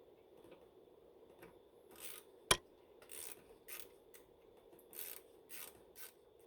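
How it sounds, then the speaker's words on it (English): A torque wrench ratchets in short bursts while a brake caliper set screw is tightened during a rear brake pad and rotor job on a Mercedes-Benz GLK or C-Class, giving several separate raspy clicking runs with quiet gaps between them. "we'll line that up and torque that to spec"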